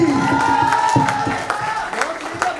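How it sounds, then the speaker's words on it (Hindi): A college freshers' party audience clapping and cheering, a loud crowd roar with scattered claps and sustained voices carrying over it. "एक बार जोरदार तालियां हो जाए।"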